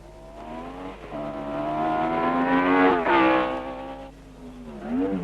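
A 1962 Formula 1 race car accelerates past the pits at Rouen-Les-Essarts at around 130 mph, its engine note climbing through rising gear pulls with brief dips at the shifts, loud and close, sweeping past alone.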